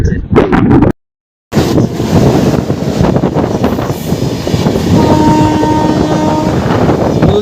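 Azad Express and Coromandel Express trains running in parallel, a loud, continuous rumble of wheels and rushing wind with a brief dropout early on and faint wheel squeal later.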